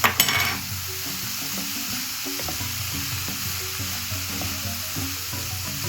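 Soya chunks being stirred with coconut sugar in a hot pan, a steady close sizzle under repeated scraping and clinking of a utensil against the pan, with a brief clatter at the start and no talking.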